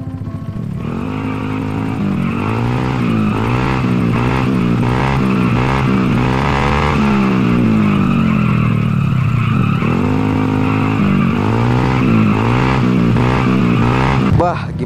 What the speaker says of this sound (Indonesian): Bagaimana suara knalpotnya?